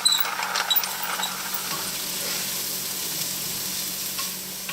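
Leeks sweating in a pot with kosher salt and cracked black pepper, a soft steady sizzle and hiss with a few stirring clatters near the start, close and even.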